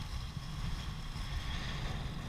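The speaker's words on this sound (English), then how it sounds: "It's very, very windy, so I don't know if you guys can hear me" Strong gusts buffet a microphone beside a lake, giving a loud, continuous low rumble and roar that never lets up, with no voice over it.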